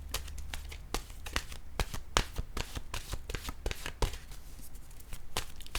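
Tarot cards are shuffled by hand, a fast run of crisp riffles and slaps in uneven bursts, close and clear with no talk.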